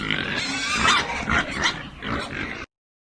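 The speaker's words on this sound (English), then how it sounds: "Pig." A pig grunts and oinks several times in a row, loud and close, with the calls running together and then stopping abruptly.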